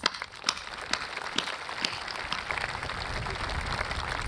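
A graduation audience at a high school ceremony claps for the parents, starting with scattered individual claps that thicken into steady, fairly distant applause in a large crowd.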